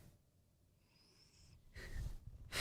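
A pet cat breathes through her nose in soft, faint airy snuffles, building to a couple of louder close sniffs near the end.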